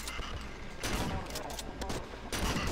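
Gunfire in the horror video game Cry of Fear, with dense bursts of shots in quick succession, loud and close. There are two sharper surges of firing against a constant noisy backdrop.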